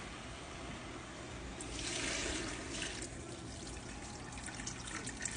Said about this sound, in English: we're gonna cover this with some cold water